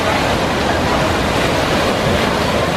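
Water sprays hard and steady from nozzles at a theme park log ride at Six Flags Great Adventure, a loud, continuous rushing hiss filling the whole moment without pause.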